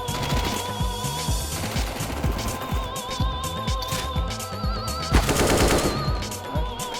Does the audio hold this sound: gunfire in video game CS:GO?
yes